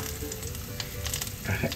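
Milkfish (bangus) frying in hot oil, a steady close crackling sizzle with bursts of spattering, continuous throughout.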